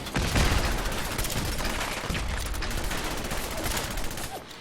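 Dense, sustained gunfire from Fallout 4 combat, a rapid overlapping volley of shots with booming low thuds running continuously and loudly throughout, with no talking over it.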